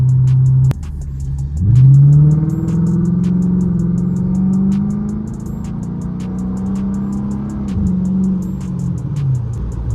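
Dodge Charger R/T, a seventh-generation V8, revs hard while driving, its deep engine note climbing and dropping through shifts, loud and close over steady road rumble, with no talking.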